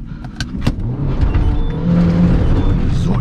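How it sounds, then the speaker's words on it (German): A tuned car engine idles and builds as the vehicle is driven slowly forward, a loud close rumble with a short rev early on and a steady drone after. "So, ich muss das Auto ein bisschen vorfahren."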